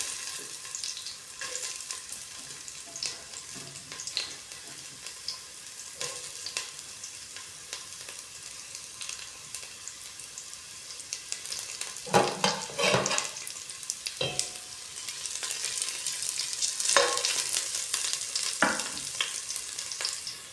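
Ginger sizzles and fries in a pan for a shrimp dish, a steady crackling hiss with occasional louder stirring scrapes. The frying grows busier toward the end, and no one speaks.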